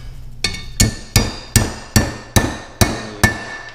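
Eight evenly spaced metallic hammer taps ring out close by as a bushing is knocked out of an 18–25 hp Johnson Evinrude outboard lower unit, each strike sharp and clear with no talking.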